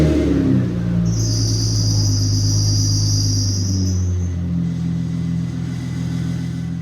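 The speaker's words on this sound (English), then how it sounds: "So let's start her up, Ty." Infiniti G35 sedan drift car with a freshly installed VQ35DE V6 engine, starter cranking briefly, then the engine catching and settling into a loud, steady idle, with a high whine early on and a slight dip near the end.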